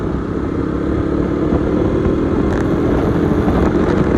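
A KTM RC200 motorcycle pulls hard along a straight road, its engine a loud, steady drone held close for the whole stretch, with wind roar folded in and no voices.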